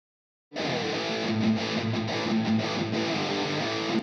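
Heavily distorted black metal electric guitar played through an Iron Ball SE, a sustained buzzing chord wall that starts abruptly after a brief silence and rings on alone with slight rhythmic pulsing.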